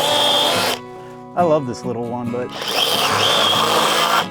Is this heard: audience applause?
no